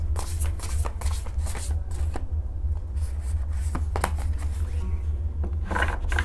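Tarot cards being shuffled by hand: repeated riffling and sliding bursts of card flicks, close and fairly soft, with short pauses between passes.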